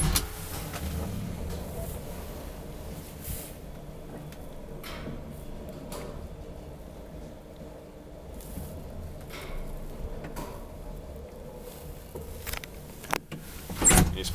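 A 1962 Kone traction elevator in a Helsinki apartment building runs with a steady low mechanical hum, broken by scattered clicks, door and relay clunks, and a louder bump near the end.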